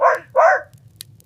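A dog gives two sharp close barks in quick succession, then brief quiet with faint background noise.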